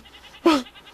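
A goat from the Minecraft video game lets out a single short, loud bleat with a wavering pitch, standing alone against a quiet background.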